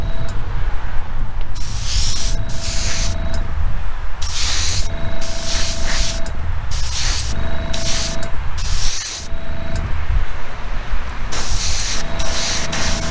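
Aerosol spray paint going onto a small Matchbox Divo Gulf model van in light coats, with repeated short hissing bursts separated by brief pauses, close and fairly loud against a continuous background rumble.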